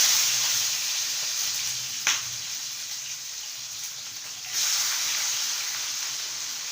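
Three medium onions dropped into heated oil sizzle loudly with a bright, steady hiss, swelling in short bursts as they hit and settle, with no talking over it.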